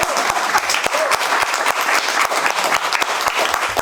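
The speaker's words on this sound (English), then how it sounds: "Give him a round of applause." Audience applause at a Santa Barbara Botanical Garden gathering, loud and close with individual sharp claps standing out over a dense continuous wash.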